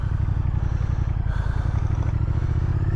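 A 2017 Triumph Thruxton R motorcycle engine runs steadily up close with a loud, deep, pulsing idle rumble and some mechanical clatter, a brief shift in tone around the middle as it goes into gear.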